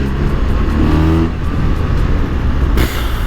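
A BMW 1300 RT Triple Black 2025 motorcycle engine pulls steadily and loudly under acceleration, a continuous close roar with a brief shift in tone near the end and no talking.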